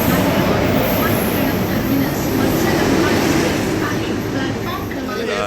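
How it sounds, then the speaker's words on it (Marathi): A Janshatabdi train pulls into a crowded platform, a steady loud rumble of wheels and carriages filling the scene with a busy crowd murmuring throughout. "आपल्या पाठीमागणं ना ट्रेन येते जनशताब्दी भरलाय प्लॅटफॉर्म"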